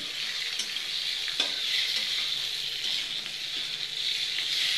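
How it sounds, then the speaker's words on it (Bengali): Chopped potatoes frying in a hot pan, a steady bright sizzle close by with a few soft stirring taps, no voices. "আলু কুচাটা দিয়ে দিলাম। আমি কিভাবে ফ্রাই করছি"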